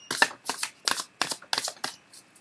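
Oracle cards being shuffled by hand, a series of about seven quick riffling bursts in a steady rhythm, close and fairly quiet, with no talk.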